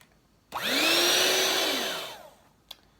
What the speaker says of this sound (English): you want to mix it with a hand mixer or a stand mixer until it's kind of fluffy